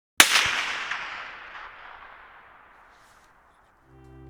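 A supersonic 7.62 bullet passes with a sharp, loud crack at once, followed by a long decaying rumble and reverberation that fades over several seconds, with a faint tonal hum returning near the end.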